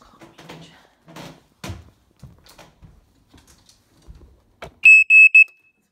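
A smoke alarm shrieks in three short, loud electronic beeps near the end during a test, after scattered quiet footsteps, knocks and handling noises.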